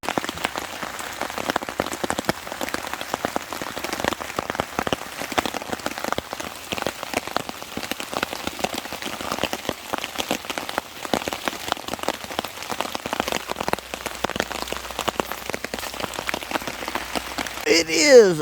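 Heavy rain patters steadily and densely on a hammock camp tarp, a close, continuous crackle of countless drops that lasts the whole time, with a faint low rumble near the end.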